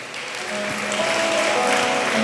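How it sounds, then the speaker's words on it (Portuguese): A church congregation applauds, a dense, steady wash of clapping that swells slightly and holds, with faint voices and a held musical tone underneath. "Você pode aplaudir Jesus bem forte."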